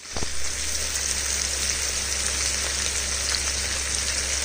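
Spices dropped into hot oil in a pan for fish-head bottle gourd curry, a steady close sizzle and hiss that stays even throughout.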